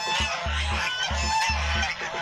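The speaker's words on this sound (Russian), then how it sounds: "Индоутки летучие." Muscovy ducks calling amid a noisy barnyard, several low rhythmic calls repeating close by over a dense background of bird chatter.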